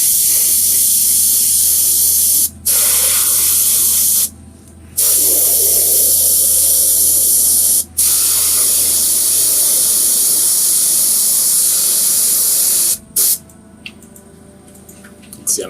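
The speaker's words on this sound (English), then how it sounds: "We're going to be focusing directly onto the raised areas of these stones with the airbrush." An airbrush sprays paint onto the raised edges of stones on a fallen-pillar model, giving a loud, close hiss in repeated long bursts broken by brief pauses.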